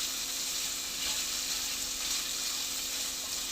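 Vegetables sauté in a pan for Bhogi mixed veg bhaji, a Makar Sankranti dish, with a close, even, continuous sizzle and faint stirring and no voices.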